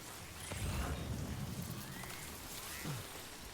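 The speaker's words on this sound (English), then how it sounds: "It's raining." Rain falls in the Death Stranding 2 game world, a soft, faint, continuous patter with low rumbling swells underneath and no talking.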